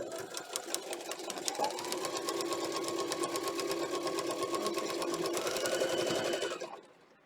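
A sewing machine runs steadily for about six seconds, stitching a seam through fabric and foundation paper for a flying geese towel band. The motor whirs loudly and continuously, then winds down and stops near the end.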